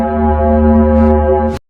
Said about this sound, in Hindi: नंबर 3 पर है वीनस,